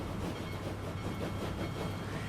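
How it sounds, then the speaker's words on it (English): A steam train far off in Transport Fever 2, just pulling out of a station, gives a steady, distant rumble and faint rhythmic clatter of rolling stock, continuous and even throughout. "because there's another train way out"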